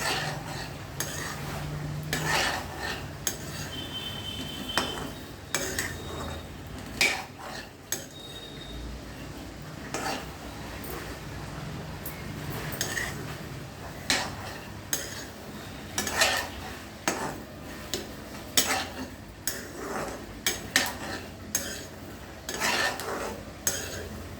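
A mixture is stirred steadily in a pan to keep it from sticking, with a long run of metal spoon scrapes and taps, close and quiet, over a faint low sizzle.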